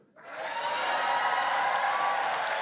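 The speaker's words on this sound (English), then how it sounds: "That was one of the bigger applause lines she got from an excited crowd" An excited crowd applauds and cheers a campaign speech line, a dense burst of clapping that rises sharply within a fraction of a second and stays loud and sustained to the end.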